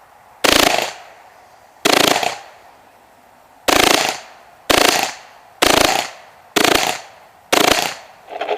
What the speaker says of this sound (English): As you can see, short burst works very good with very little skipping.